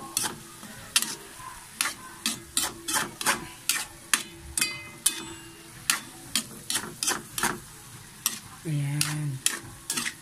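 Vegetables sauté in a pan with repeated rhythmic scraping strokes of a spatula over a soft sizzle, close and fairly quiet, with a short muffled thump near the end.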